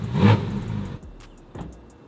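A Porsche GT4RS fitted with a Fabspeed exhaust gives one loud engine rev that peaks early and fades within about a second. A quieter burst follows at about the midpoint.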